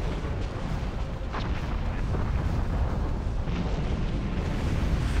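An alien carrier explodes in the space strategy game Sins of the Fallen, heard as a steady, dense rumbling roar of blasts that holds at moderate level for several seconds without pause.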